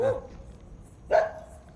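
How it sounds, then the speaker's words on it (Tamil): A dog barks twice out in the open in Madurai. The two short barks are about a second apart, moderately close, with no voices in between. "அங்கே நாய் தான் இருக்குது சார்"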